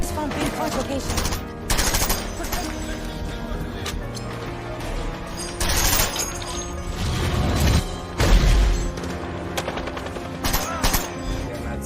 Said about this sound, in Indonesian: Namun ia mendapat tembakan dari anak buah Titov yang sedang berjaga.